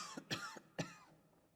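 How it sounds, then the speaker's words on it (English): A video game character in LA Noire coughs in two or three harsh, throaty bursts close to the listener, fairly quiet, with no talking. "Coughing on me"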